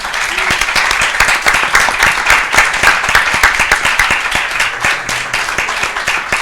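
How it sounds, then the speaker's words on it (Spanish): A crowd applauds warmly and steadily at the end of a talk, dense clapping filling the space throughout without letting up. "un aplauso, ¿no?"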